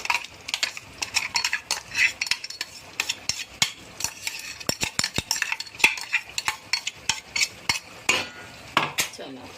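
A spoon stirs chopped onion into a masala in a metal pan while cooking gavran mutton, giving repeated close scraping and clinking strokes at an irregular rhythm with a faint sizzle underneath.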